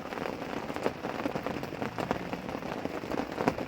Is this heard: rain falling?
yes